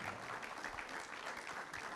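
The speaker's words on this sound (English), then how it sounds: "Let's give him a big, big, big round of applause" An audience at a talk-show chat event gives a steady round of applause, continuous hand clapping that sounds faint and somewhat distant, with no speech.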